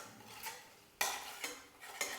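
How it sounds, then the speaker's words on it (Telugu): Fish pieces of korameenu (murrel) with salt and turmeric stirred in a pan, a utensil scraping in soft repeated strokes over a faint low sizzle, close and fairly quiet with no talk. "లైట్గా బ్రౌన్ కలర్ వచ్చే వరకు వేయించుకోవాలి."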